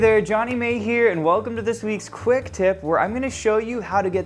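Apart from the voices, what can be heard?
No everyday noise stands out behind the speech.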